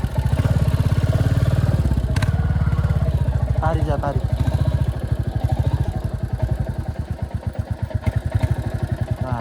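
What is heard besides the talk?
Royal Enfield motorcycle riding back from test ride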